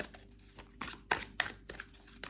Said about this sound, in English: it's not very bendy, so for the riffle shuffling it's maybe not the best